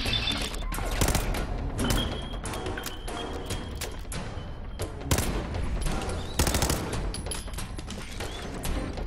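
The player's gun firing in Fallout 4: rapid loud shots in quick bursts and single cracks spread across the whole stretch, close and punchy, with distant combat thuds between them.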